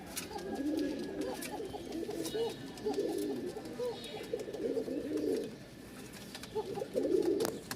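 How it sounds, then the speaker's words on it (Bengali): Rajshahi Giribaz pigeon cooing, with repeated soft throaty rolling coos in short bursts, up close and moderately quiet, against faint background noise. "এটা রাজশাহীর চিকন ডাকের ককা"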